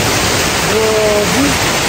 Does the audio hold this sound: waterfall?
yes